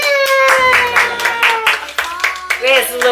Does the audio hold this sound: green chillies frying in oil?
no